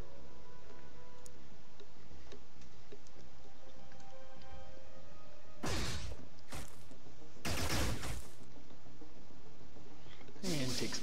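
Several sharp bursts of gunfire in the squad tactics game Xenonauts, short loud volleys spaced a second or two apart over a low ambient hum and ticking background.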